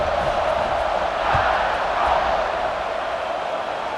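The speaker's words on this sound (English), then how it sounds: "They're set to kick it off, and this crowd now ready to get behind them." Stadium crowd cheering at kickoff in the EA Sports College Football 26 video game, a steady loud roar with slight swells throughout.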